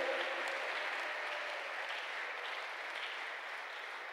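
Sustained applause from a church congregation at a Sunday service: many hands clapping at once in a continuous, even roar that thins slightly toward the end.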